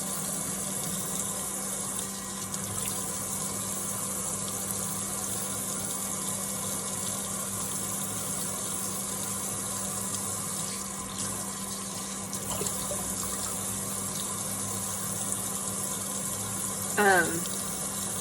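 Tap water runs steadily and evenly throughout while butter is squeezed to press out the buttermilk and water, with a brief squeaky clatter near the end.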